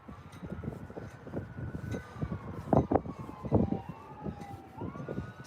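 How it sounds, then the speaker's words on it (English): An ambulance siren wails in the distance, its rising and falling tone drawing closer over a few seconds amid quiet street background. "I don't know why there is an ambulance coming this direction."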